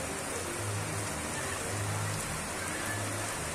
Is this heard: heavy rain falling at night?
yes